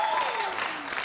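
Applause from a concert audience at the final of a chamber music competition, following a performance of Vivaldi's Four Seasons; dense, steady clapping throughout a short stretch, with a faint sustained tone fading under it.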